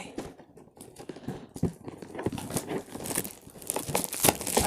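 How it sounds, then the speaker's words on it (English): Packing tape being peeled and ripped off a cardboard box at home, with close, uneven crackles and tearing bursts that grow louder and busier toward the end. "I'm just trying to get the tape off."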